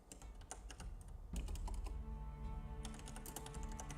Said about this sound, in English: He's typing it.